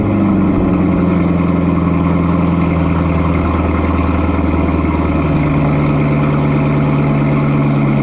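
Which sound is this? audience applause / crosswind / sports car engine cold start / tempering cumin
sports car engine cold start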